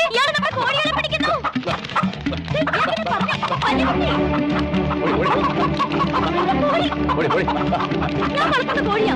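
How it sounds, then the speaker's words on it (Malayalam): Chickens cluck and squawk loudly as a man tries to grab them, their calls jumbled into a dense, continuous wall of sound that never lets up. "ഇയാള് നമ്മുടെ കോഴികളെ പിടിക്കുന്നു"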